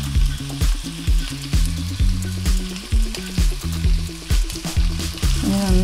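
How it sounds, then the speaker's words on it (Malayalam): Turmeric, coriander powder and chilli powder frying in hot oil for a Mughlai chicken gravy, giving a close, steady sizzle broken by repeated scraping stirs, with no talking. "എണ്ണയിൽ കടന്നിട്ട് നമ്മളെ മസാലകളൊക്കെ ഒന്ന് മൂത്ത് കിട്ടണം, പക്ഷേ കരിയരുത്."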